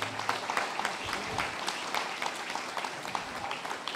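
Applause from a church congregation fills the space, a steady wash of many hands clapping at moderate distance with no talk over it.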